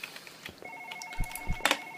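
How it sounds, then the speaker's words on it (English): A telephone rings in a horror video game, giving a loud electronic trill over a faint low rumble and a couple of soft thumps. "Phone."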